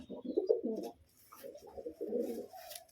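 Close pigeon cooing, a male and female pair of Kaldoma and biscuit-coloured pigeons kept by a breeder, in two soft throaty bursts of low rolling coos separated by a brief pause.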